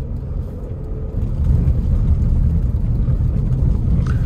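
A Compass car drives down a rough side street at about 23,873 km on the odometer, producing a dense, low rumble and vibration from the cabin. The rumble grows louder after the first second and stays steady, with no talking.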